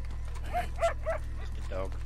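A dog in Red Dead Redemption 2 lets out three short, quick barks followed by a longer whine, moderately loud over a steady low game hum.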